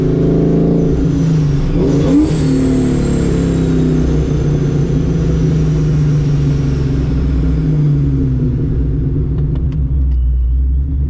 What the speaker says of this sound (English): Gotta love that blow off valve, baby. With the blower. Boy, I love that downshift.